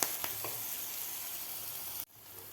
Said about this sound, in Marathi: व्यवस्थित आपल्याला ही ठेचा परतून घ्यायचा आहे.